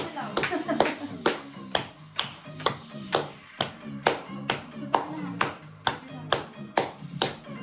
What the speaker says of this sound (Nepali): त्यतै गएर थपडी मार्न पर्छ